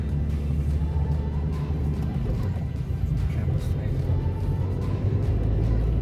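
Steady, close engine and road rumble from inside a car driving slowly through Abbotsbury village in Dorset, continuous and unchanging throughout.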